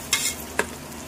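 Biryani ingredients and leaves being stirred and sautéed in a pan, two brief scraping, sizzling strokes close by with a low steady hiss between them.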